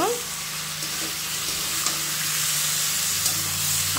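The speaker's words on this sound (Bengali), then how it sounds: "এবার ভালো করে মিশিয়ে নেব।" Potato posto with fried pointed gourd being stirred in a pan, giving a steady frying sizzle with soft scraping and stirring strokes, close and continuous with no voices.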